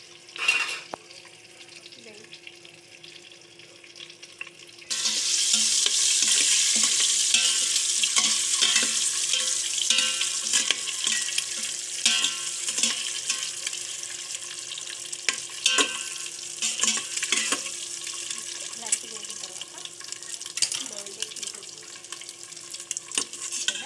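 Food fries in a pan while it is stirred: a quiet opening with faint clinks gives way to a loud, continuous sizzle, with scraping stirs and occasional utensil knocks over it.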